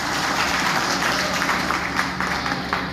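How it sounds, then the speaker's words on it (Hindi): Dense, loud clapping from an audience at a Bhojpuri cultural event in Bihar holds steady without a break, with faint voices mixed in. "तो एक बार तालियां तो बजनी चाहिए साहब"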